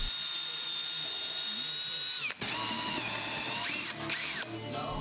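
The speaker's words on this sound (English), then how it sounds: "I had to drill some pocket holes." A drill boring pocket holes into wood while building a storage workbench in a workshop, a steady, close, high whining whir that runs almost continuously, with brief dips and pitch shifts as the bit bites.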